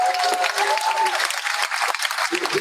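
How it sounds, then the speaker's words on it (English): A graduation ceremony audience claps steadily and densely for about two and a half seconds, with faint voices mixed into the applause. "can we have a quick round of applause for my sister who was gonna play piano"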